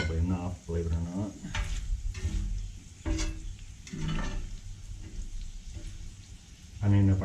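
Potatoes and bacon frying in a pan over a cabin fireplace, a close, continuous sizzle broken by scraping stirs, with occasional muffled voice.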